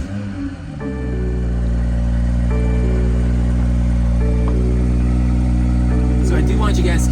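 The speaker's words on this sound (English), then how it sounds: "All right, and let's fire it up." A BMW X3 M40 SUV's B58 engine cranks over and catches, then settles into a loud, steady idle with a strong low rumble, nearby and continuous.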